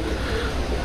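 Pigeons of a golden breed cooing at a loft in Multan, a soft, low murmur held steadily through the short stretch with no voices over it.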